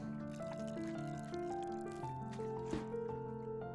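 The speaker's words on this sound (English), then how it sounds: "Fill it with water." Water pours into a plant pot in the video game Botany Manor, a faint trickle and drip set over soft game music.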